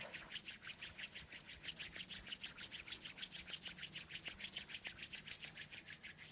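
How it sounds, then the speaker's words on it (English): Palms rubbing briskly together in a steady back-and-forth rhythm during a yoga routine, a soft, even swishing friction that repeats about four times per second, close and quiet with no talking. "Start to rub the hands, creating some friction, creating some warmth."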